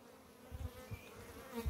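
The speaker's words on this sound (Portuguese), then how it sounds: "Tô tirando aqui essas abelhas, que elas vêm do mato, aí senta." Italian honey bees hum around a hive full of honey, a steady close buzz with a few louder swells as individual bees pass near, no voices present.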